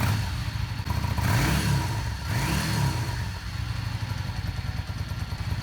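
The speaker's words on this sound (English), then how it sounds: "we'll take a look at some throttle response here" Yamaha Star 650 motorcycle, freshly rebuilt carburetors, not yet at full temperature with old gas in the system, idles close by, then blips its throttle in two quick revs before settling back to a lumpy idle.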